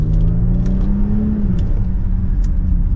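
A 2024 Genesis GV80 AWD SUV with a twin-turbo V6 in sport mode pulls forward under acceleration, its engine a loud, steady droning hum that rises slightly in pitch and then settles, heard from inside the cabin.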